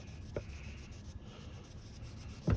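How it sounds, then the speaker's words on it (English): Beeswax rubbed onto the wooden handle of a vintage monkey wrench, a soft continuous rubbing and scraping friction close up, with a couple of sharper knocks from handling, and no speech. "So just get our beeswax really nice and in there. Rub it on."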